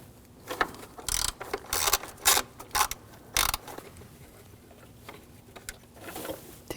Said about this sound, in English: you're going to take these bolts out. Use a T30 socket.